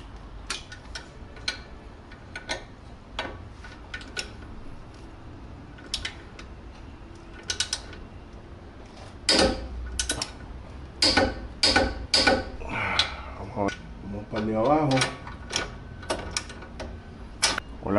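The nuts on a Mitsubishi Outlander's shock absorbers are tightened to torque with a ratchet, producing close, repeated clicking ticks in quick bursts with brief pauses between them.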